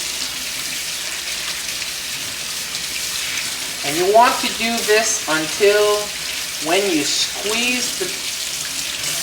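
Tap water splashes and runs over the bristles of a paint brush being rinsed in a sink, a steady hiss while someone talks over it.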